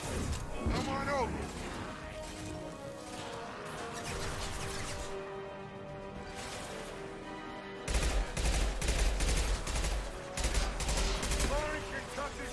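Machine gun pistol fire in Mass Effect 2 rattles out as dense automatic bursts with impacts and crashes, continuous through the clip and louder toward the end, mixed with game voices.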